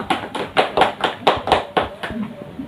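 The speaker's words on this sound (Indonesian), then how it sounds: "Mari kita beri tepuk tangan bagi Ibu Sipes" A small group claps in a slow, rhythmic unison, about ten distinct close claps evenly spaced, with faint voices in the background.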